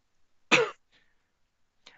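A single short, harsh throat clear or cough, close and fairly loud, followed by faint small breathy sounds in a quiet room.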